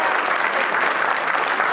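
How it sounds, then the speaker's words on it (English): An audience at a Hyderabad Association award celebration bursts into dense, continuous applause. A loud, even wash of many hands clapping fills the room without a break. "I go 1, 2, 3, so we give you a big applause"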